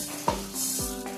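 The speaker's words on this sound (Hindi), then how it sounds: "अब हम धनिया को भूज लेते हैं।" Coriander seeds dry-roasting in a pan, with a short close scrape and sizzle of stirring and two quick sweeping strokes across the hot metal.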